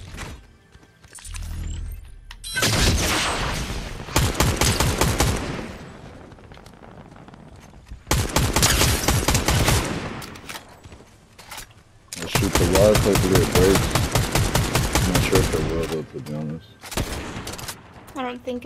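Bursts of rapid gunfire in the Fortnite video game, Zero Builds duos mode, with loud repeated volleys of shots separated by quieter gaps and a brief low rumble.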